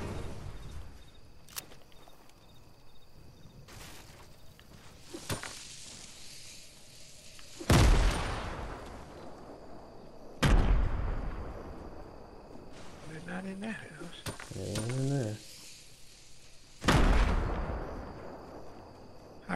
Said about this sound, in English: I'm gonna shoot his gas can